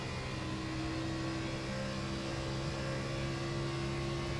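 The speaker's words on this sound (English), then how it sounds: "we're just going to try to get down the gas aggressively" In the iRacing video game, an Xfinity race car at Charlotte holds a steady, droning engine note under hard throttle, a constant whine with sustained harmonic tones and no speech.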